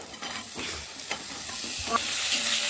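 Chopped carrots go into a pot with lightly fried onion for vegetable soup, giving a soft steady sizzle with a few scattered stirring scrapes.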